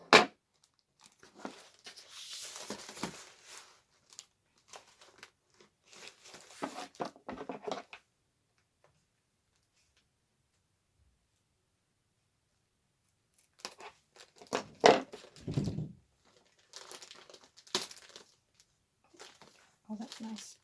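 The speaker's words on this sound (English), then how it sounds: "I think we're okay to very carefully just cut the tape with the scissors." Scissors cut tape and cardboard packaging is torn open around an Edwardian magazine from 1906, heard as close, crinkly bursts of snipping, crunching and tearing, separated by a long quiet pause.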